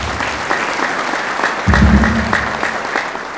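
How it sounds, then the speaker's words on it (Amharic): A church gathering honouring two servants with honorary doctorates breaks into sustained applause, dense clapping from a large audience with a brief louder swell midway. "አጨብጭቡላቸው።"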